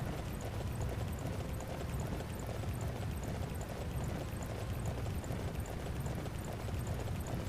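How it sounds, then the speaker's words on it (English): A horse gallops steadily in Dynasty Warriors 9, its hoofbeats a continuous, even drumming buried in a thick, roaring wash of background noise with no clear pauses. "I don't mind riding the horse"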